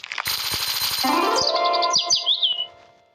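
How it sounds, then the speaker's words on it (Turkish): A synthetic bird chirp sound effect from a slime video game, one bright warbling, rising and twittering call about two seconds long, heard clearly and alone with no talk. "Ha, kuş etti."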